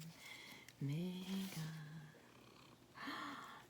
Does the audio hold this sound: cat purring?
yes